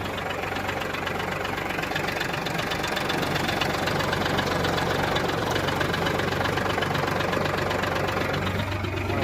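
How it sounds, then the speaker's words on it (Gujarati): A four-wheel-drive farm tractor in a village, its diesel engine idling with a steady low knocking chug, close and continuous throughout. "4 व्हील ड्राइव ट्रैक्टर है"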